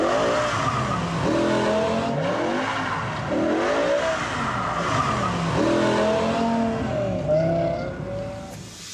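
A car surges forward and accelerates hard after its power mode is switched on, the engine note rising in repeated sweeps with gear changes, loud and close, with no one speaking.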